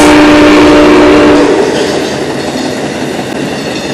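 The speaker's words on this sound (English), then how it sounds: "Amtrak, we dare you to ride, coming by." A loud Amtrak passenger train rumbles past close by on a railroad line, its roar and rattling wheels filling the air, with a brief horn-like tone early before the noise settles.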